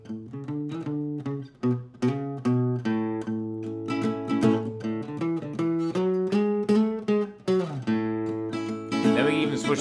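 A guitar exercise played as a waltz in three, strummed chords in a steady lilting triple rhythm, close and clear, with no talking.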